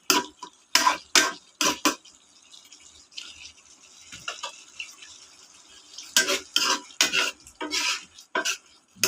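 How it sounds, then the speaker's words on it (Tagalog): Apritada pork belly being cooked in a pan: a spoon scrapes and clanks against the pan in irregular bursts, with quieter stirring and a faint simmer between the louder strokes. "Balikan natin ang ating nilulutong apritada pork belly."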